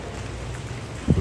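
Steady rain falls during a walk in Sochi near Esto-Sadok and Rosa Khutor, a soft, even patter close by, with one brief louder thump near the end and no talking.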